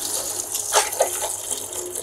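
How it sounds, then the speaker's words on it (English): Water runs steadily into a pan with a broad hissing gush, a couple of small splashy accents along the way, fairly close and continuous. "then fill them all with water"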